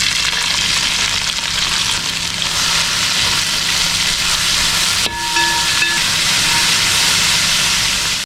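Five medium chopped onions hitting hot ghee and oil in a pan, a loud continuous sizzle and hiss that briefly dips and flares midway, with a faint whistling tone riding over the frying.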